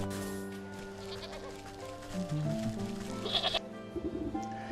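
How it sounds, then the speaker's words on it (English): A sheep in the video game Wytchwood bleats a few times over a soft, steady musical backdrop, close and clear. "There's a sheep."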